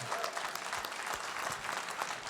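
An audience at a live music show claps and cheers continuously, a dense wash of applause with scattered whoops throughout.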